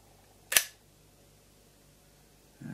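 A 1932 Leica's cloth focal-plane shutter fires once with a sharp, close mechanical snap, then near-silence until a softer low rustle of handling at the end.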